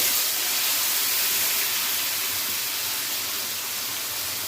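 Loud, steady hiss of ground masala frying in hot oil for chicken karahi, a continuous close sizzle with no pauses and no talking.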